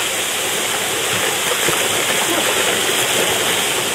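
Water churns and splashes steadily in a pool after a wave is made, with a continuous broadband rush that stays loud and even throughout, no talking heard.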